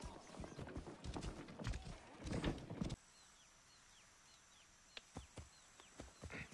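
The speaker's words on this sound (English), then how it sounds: "Can I just get on this horse?" Horse hooves clip-clop in Assassin's Creed Origins, a rapid run of hoofbeats that stops abruptly, then a few scattered steps follow over quiet ambience with faint bird chirps.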